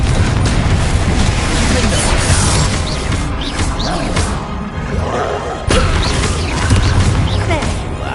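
Magic spell blasts from Confringo and Bombard in the Hogwarts Legacy video game boom and crash in dense, loud bursts, layered with battle effects and overlapping voices.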